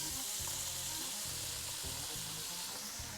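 Shrimp frying in a hot pan for garlic shrimp pasta, a steady bright sizzle with occasional soft stirring thumps underneath, fairly quiet and close.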